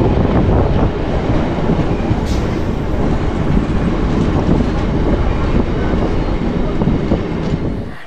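A train arriving at a station rumbles loudly and steadily, with a dense roar of wheels and rolling noise throughout.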